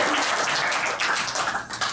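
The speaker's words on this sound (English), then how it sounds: "Give me a round of applause." A small audience gives a brief round of applause, about two seconds of fairly loud, close clapping that thins slightly toward the end.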